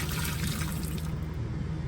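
Boiled water poured from the stove over cleaned oxtails, a steady close splashing rush of liquid that thins toward the end, with no talk.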